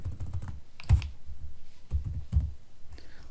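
Keys clack on a computer keyboard in irregular clusters of quick taps with short gaps, close and fairly soft, while a simple number is typed during a Python lesson.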